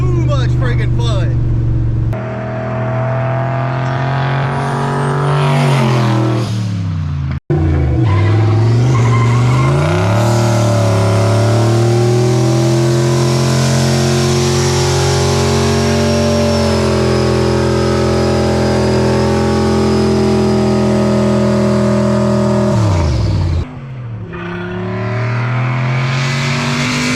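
A turbocharged Fox body car with a head, cam and intake package revs hard at full throttle, the engine note climbing through long sustained pulls with brief gear-change dips, loud and close.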